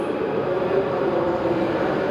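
A steady, loud rumble of a Hokuriku Shinkansen bullet train rolling into Kanazawa Station platform, with a broad roar that holds evenly and no voices.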